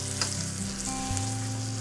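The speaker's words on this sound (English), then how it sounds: "What we're doing now is we're getting a little bit of a sear in the bottom of the pan." A filet mignon sears in garlic butter in a hot pan, giving a steady, soft, close sizzle with no voices.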